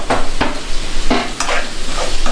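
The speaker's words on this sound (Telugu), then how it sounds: "వేగిన ఆనియన్స్లో టమాటా వేస్తున్నావా?" Tomatoes are stirred into fried onions in a pan: close, loud scraping strokes of a spatula at a few-per-second pace over a constant sizzle, with no speech.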